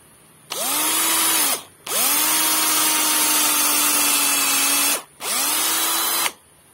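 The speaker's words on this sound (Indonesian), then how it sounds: "kita lakukan bor dengan ukuran kecil." Three bursts of a high-pitched power drill with a small bit boring into a durian tree trunk, each spinning up with a rising whine, holding steady, then winding down; close and loud, no talking.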